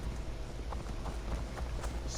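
Horse galloping in the video game Assassin's Creed Valhalla, a steady run of soft hoof thuds against a constant low game rumble, with no voices.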